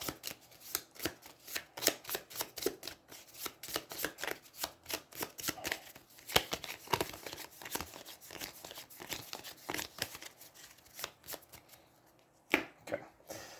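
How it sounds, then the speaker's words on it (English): Cards are shuffled continuously at a tabletop session of Aeons End, a card game. Rapid riffling and snapping bursts repeat for over ten seconds, close and clear, with no speech. "she has to shuffle a card in there"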